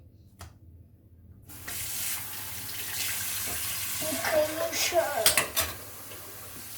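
Tap water runs into a sink as a child washes dishes at home, with plates, pots and cutlery clinking and scraping in bursts near the end over the steady flow, and faint talk in between.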